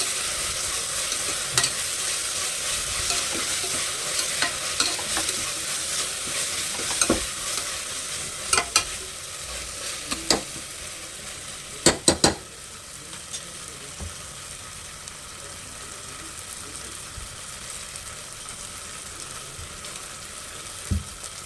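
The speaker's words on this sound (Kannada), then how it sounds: "ಶುಂಠಿ ಬೆಳ್ಳುಳ್ಳಿ ಪೇಸ್ಟ್ ಹಾಕೋಣ. ಇದು ಸ್ವಲ್ಪ ಹಸಿ ವಾಸನೆ ಹೋಗೋವರೆಗೂ ನೀಟಾಗಿ ಫ್ರೈ ಮಾಡಬೇಕು" Ginger garlic paste frying in hot oil while being stirred for tomato bath, a steady close sizzle broken by sharp scraping clicks of the spoon against the pan.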